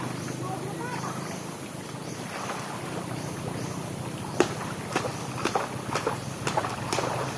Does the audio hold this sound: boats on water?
yes